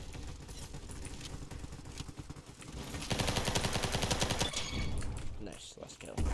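Tommy gun firing in a video game: rapid automatic bursts, close and loud, growing into a denser, heavier stretch of continuous fire midway before breaking off.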